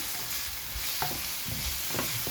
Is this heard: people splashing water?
no